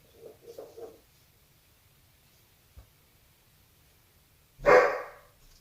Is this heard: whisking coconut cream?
no